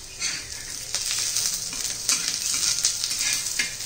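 Onion, garlic and green chili sizzle and crackle in a hot pan for a raw mango chutney, with a spoon scraping and stirring now and then over the steady frying hiss.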